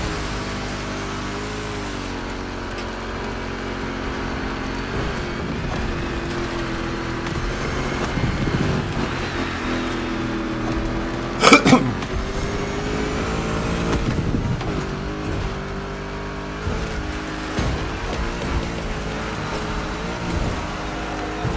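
A car engine driving and revving in The Crew Motorfest racing game, a sustained loud engine drone with shifting pitch, gear changes and a brief sharp impact midway.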